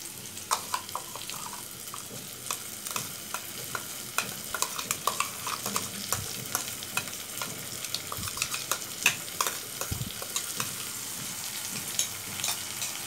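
A paste of poppy seeds, mustard and green chilli goes into tomatoes frying for a pomfret curry and gets stirred, giving a steady close sizzle with scraping and clicking of the spoon throughout.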